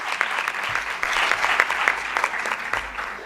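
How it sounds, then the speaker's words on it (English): Applause from an audience welcoming a team at a corporate event, a steady, dense patter of many hands clapping for about three seconds, fairly loud and close, with no voices over it. "Let's give a round of applause for Team 2223."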